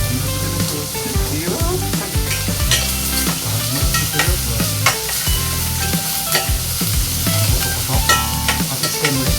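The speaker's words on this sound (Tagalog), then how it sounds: "Brown lang natin siya ng konti na kasi pa-brown." Garlic, onion and ginger sizzle and fry in a stainless steel pan while being stirred, with repeated scraping strokes of the utensil over a constant hiss; close and fairly loud throughout.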